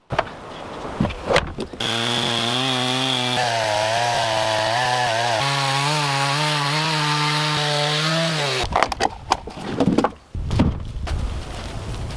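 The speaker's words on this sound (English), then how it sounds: "uses a chainsaw to trim the wood to the correct size" Loud, steady whine of a chainsaw cutting through logs while building a log home in the wilderness, its engine pitch wavering slightly, then cutting off into brief clattering and handling noises.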